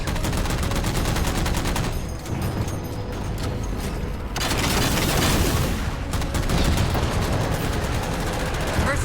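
Sustained gunfire in the Halo 4 video game as jammers are shot down, dense continuous automatic bursts and impacts at full volume with only a brief lull partway through.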